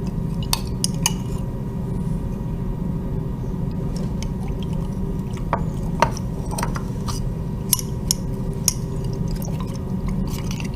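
A glass stirring rod clinks and scrapes against a container while a slime mixture of borax solution is stirred, producing irregular sharp taps over a soft, wet background hiss.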